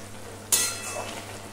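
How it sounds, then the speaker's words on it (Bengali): Fried spices being stirred into a spinach and prawn curry in a pan: a sudden burst of sizzle and scraping after a quiet hum, then fading hiss. "আর ভাজা মশলাটা খুব ভালো করে তরকারির সাথে মিশিয়ে নেব।"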